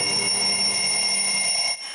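An alarm clock rings with a steady, high, bright electronic tone, loud and continuous for nearly two seconds before dropping off abruptly.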